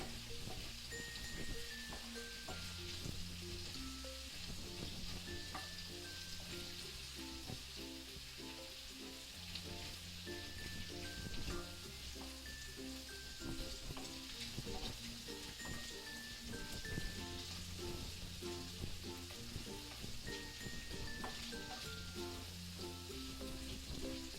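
King prawns fry with garlic in a hot pan for stir-fried noodles, a steady close sizzle and crackle that runs unbroken, with quiet background music underneath.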